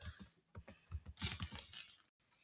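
A computer keyboard is being typed on in quick bursts of soft, close keystrokes with a brief pause near the end, quiet and without talk.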